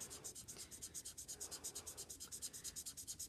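Ink pen coloring on wet paper, a close, quick rhythmic scratching of repeated back-and-forth strokes, steady and fairly faint.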